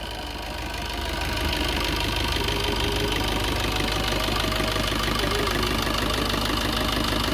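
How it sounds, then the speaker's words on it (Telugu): Steady, close diesel clatter from a 2018 Maruti Baleno engine idling, the rhythmic knock holding even and loud throughout with no voices. "సో ఇంజిన్ సౌండ్ అయితే ఎలా ఉందండి"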